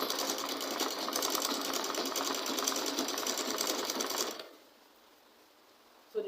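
Sewing machine stitching fabric for a spiral turban, with a steady, close, fast mechanical whir that runs for about four seconds before stopping abruptly, leaving quiet.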